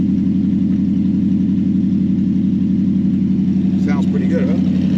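A 1968 Dodge Dart with the choke applied idles steadily at close range, a loud, even low rumble held throughout, with a brief light rattle near the end.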